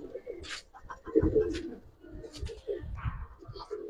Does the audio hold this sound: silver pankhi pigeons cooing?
yes